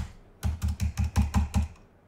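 Keys clack on a keyboard hooked up to an iPhone 17, about seven evenly spaced, fairly loud strokes in a quick steady run, close up with no voices.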